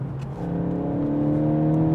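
Turbocharged Mk8 VW GTI accelerating, its engine note holding steady and rising slightly throughout. The engine runs alone and is heard from close by.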